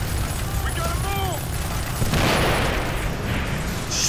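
Explosions in the video game Ghost Recon: Future Soldier rumble as a broad, dense burst of low booming noise that swells around the middle, mixed with game effects and a voice talking over it.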